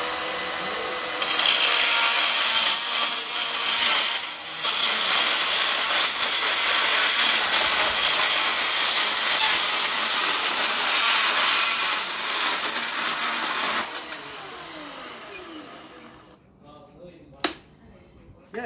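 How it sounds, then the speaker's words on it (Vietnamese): A cordless battery-powered saw cuts a bamboo stick in a garden, giving a loud, steady, raspy buzz that runs for about thirteen seconds before winding down to silence, followed by a single sharp click. "chúng ta cắt cái cưa này chỉ một lát là xong thôi, làm rất là nhanh"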